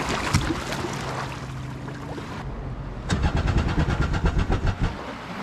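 A boatercycle engine cranks on a dying battery, with slow labored turning at first, a brief pause, then a faster rhythmic run of cranking pulses, fairly loud and close, with no talk.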